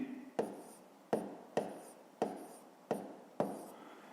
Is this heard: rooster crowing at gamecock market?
no